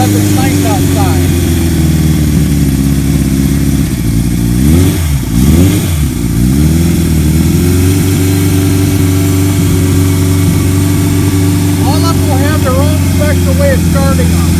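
A 1978 Kawasaki KZ1000 motorcycle engine idles loud and close on a warm day, steady and rumbling, with a brief rev swell in the middle before settling back to an even idle.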